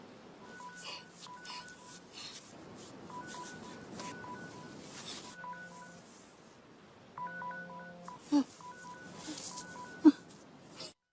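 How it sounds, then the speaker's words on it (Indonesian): Telephone dialing tones play in repeated bursts of beeps with short pauses between them, followed by a couple of sharp clicks near the end, fairly quiet and alone. "Lalu tiba-tiba ia mendengar suara telepon."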